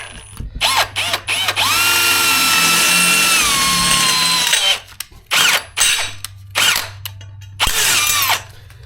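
A power drill with a 13/64 bit whines through a long run of drilling holes for a garage door installation, its pitch shifting, then fires in several short bursts with brief pauses between.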